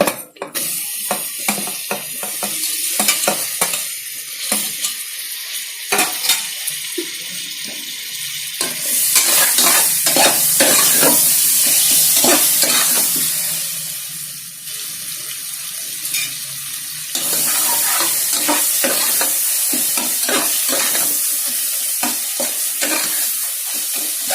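Tomatoes stirred in a frying pan for kuska biryani: a spoon scrapes and clatters against the pan over a sizzle that swells and fades, with a brief burst of running water, up close and without speech.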